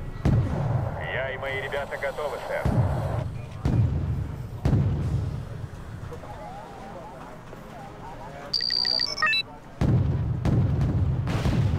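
Wargame Red Dragon naval battle artillery fire booms repeatedly in the game, with heavy thuds recurring every second or two under continuous rumbling battle noise, mixed with a brief electronic tone.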